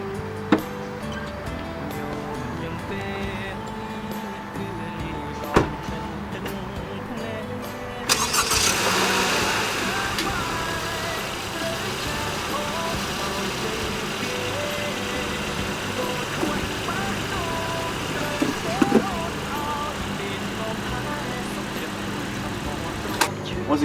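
A car engine turns over and starts, then idles and runs steadily at a moderate level as the car drives down a ramp during an oil change, with a few clunks in the background.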